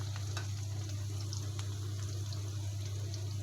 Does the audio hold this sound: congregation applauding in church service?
no